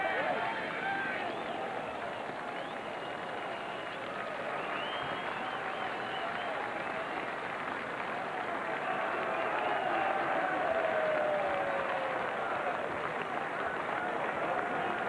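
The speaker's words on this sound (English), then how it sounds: "the applause ringing out, as you can hear, for Mick Fitzgerald" A racecourse crowd applauds the winning jockey Mick Fitzgerald after the 1999 Queen Mother Champion Chase, a steady, dense wash of clapping and cheering that holds throughout, with a voice faintly carrying underneath.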